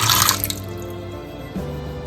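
Water splashes and trickles into a bowl for lavash bread dough, a bright pour at first that settles into a steady, quieter running stream.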